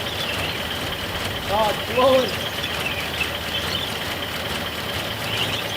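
A Nissan 720 truck engine runs steadily while blowing a mouse nest out of the exhaust pipe, a constant rumbling idle with a short spoken exclamation over it.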